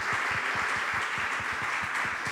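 A church congregation applauding, a steady wash of many hands clapping together with a regular low thumping beat underneath, held evenly throughout.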